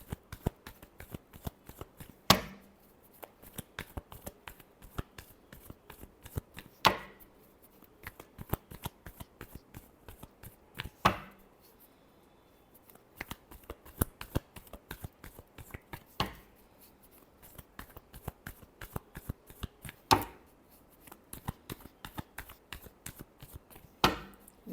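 Tarot cards are shuffled close by in repeated quick riffling bursts, each a crisp rattle of card edges, separated by short pauses across the stretch, with no talk.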